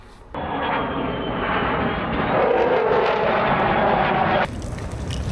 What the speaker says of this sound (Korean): 뭐 제트기 이렇게 가까이서 나는 거 처음 봤어요.